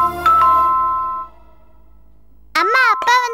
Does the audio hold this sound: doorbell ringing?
yes